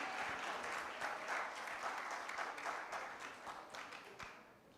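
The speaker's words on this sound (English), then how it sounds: "A very big round of applause for our dear guest" A hall audience claps for a guest doctor arriving on stage at an event on visual challenges, a full, even round of applause from many hands that gradually thins toward the end.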